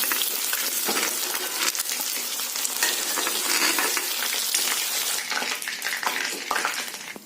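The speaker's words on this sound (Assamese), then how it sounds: "এয়া মাংসখিনি 5 মিনিটমান ভজা হৈ গৈছে।" Chicken frying in hot oil in a pan for a restaurant-style curry, a continuous dense sizzle with crackles and occasional clinks of a utensil against the pan, close and steady throughout.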